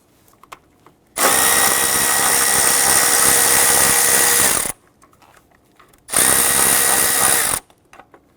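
A power tool loosens 10mm bolts on a metal intake bracket of a 4.0L V6 Nissan Frontier engine, whirring loudly and close in two sustained bursts, about three and a half seconds then one and a half, separated by quiet.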